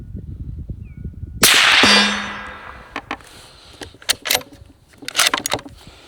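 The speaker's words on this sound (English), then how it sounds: "let's just go ahead and fire off the next 3 while that suppressor's warm," Suppressed Howa 1500 Mini Action rifle in 7.62x39 fires outdoors: one sharp loud report with a decaying tail, followed by several clanks and metallic clicks like the bolt being cycled, no talk.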